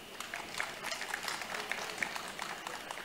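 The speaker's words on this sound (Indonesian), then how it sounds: "Tepuk tangan untuk itu" Applause at a coffee festival opening ceremony in Indonesia: faint, distant crowd clapping, steady and diffuse with scattered sharper claps, heard from afar in a large space.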